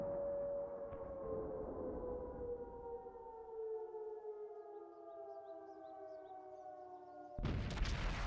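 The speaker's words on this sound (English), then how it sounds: "Siren's still ringing." A civil-defense-style siren wails in a multiplayer war video game, a long sustained tone slowly falling in pitch, then cut off by a loud burst of noise near the end.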